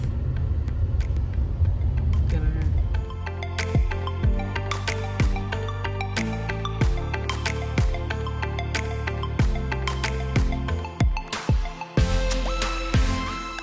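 Steady low road rumble inside a moving car on the way to dinner in Europe, loud and continuous for the whole stretch with no talking.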